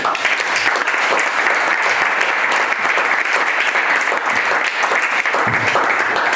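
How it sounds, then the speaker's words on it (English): An audience claps continuously and loudly to welcome a guest speaker at a college event, dense and steady applause filling the room without pause. "I haven't said anything yet and you've already clapped."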